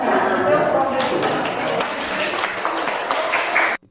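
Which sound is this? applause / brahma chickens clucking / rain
applause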